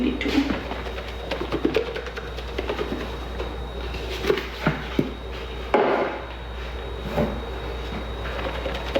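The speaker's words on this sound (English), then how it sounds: "I'm gonna hand mix a little bit" A hand works laundry powder detergent mixed with dish soap, producing soft squishing, scraping and tapping contacts in an irregular rhythm, close and fairly quiet over a steady low hum.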